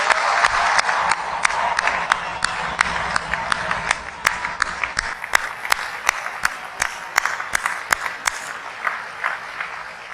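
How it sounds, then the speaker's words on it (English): An audience at a Navy sailors' graduation applauds, many hands clapping in a dense, crackling roar that thins into scattered claps, fairly near and loud with no voices over it. "please join me in a round of applause."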